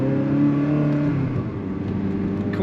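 A 2004 Ferrari 360 Spider F1 engine revs and drones steadily at close range while driving with the window partly down, its pitch rising then dropping, with a faint rush of wind underneath.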